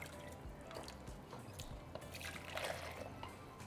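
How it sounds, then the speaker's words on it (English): Beef broth from an Instant Pot poured through a strainer, a faint steady trickle and dribble of liquid running for a few seconds, quiet and close with no talking. "We're going to strain 4 cups of the broth."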